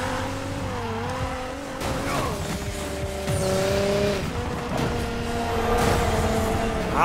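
A race car in the Need for Speed Payback game screams past at speed, its engine tone rising and falling with gear changes over a continuous loud roar, with tire noise and no talking.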